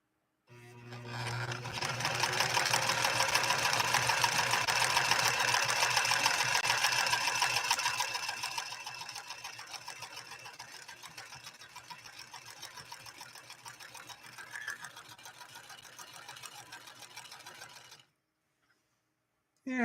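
A White Model 742 sewing machine stitching satin fabric runs in a steady, continuous whir for about seventeen seconds, loud at first and then easing slightly before stopping.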